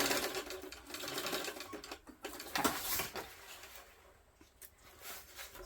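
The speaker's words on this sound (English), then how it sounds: "In fact, you have to top stitch the lining." A sewing machine runs in steady bursts, top stitching the lining of an overnight-size Oxbow tote bag, its fast mechanical patter rising and pausing briefly as fabric is guided through, close and without talk.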